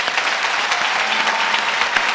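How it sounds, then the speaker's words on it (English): Steady, dense applause from a graduation ceremony audience, clapping continuously at an even level with no talk over it. "This applause is for all of our friends who help raise the money"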